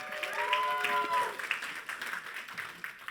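Audience clapping at a stage talk as two guests are welcomed up, a moderate burst of applause that thins out with scattered claps and faint voices.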